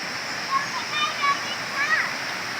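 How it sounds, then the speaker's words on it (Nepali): The Kanchan river flows near a Shiva temple, a steady broadband rush of water with faint splashy peaks and light voices nearby. "खोलाको आवाज पनि आइरहेको छ"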